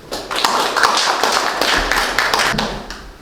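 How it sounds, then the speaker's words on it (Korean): An audience at a small Isang Yun chamber concert applauds, a dense, fairly close patter of many hands clapping that holds steady for a few seconds. "박수 부탁드립니다."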